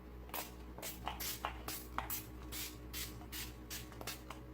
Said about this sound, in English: This setting spray,